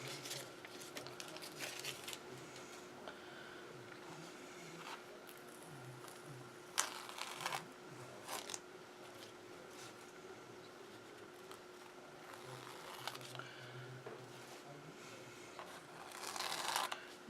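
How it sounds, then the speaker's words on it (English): Painter's tape is peeled off a canvas after color blocking, giving faint, quiet tearing and crinkling strips in a few separate pulls over a steady low hum. "And then I'm going to lift the paint tape off."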